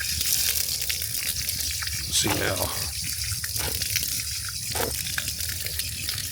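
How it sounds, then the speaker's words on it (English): Water is tossed onto a beeswax-waterproofed pack lying on the ground outdoors, giving several short splashing gushes, with a person talking over and between them. "Let's toss it right here on the ground and toss some water on it."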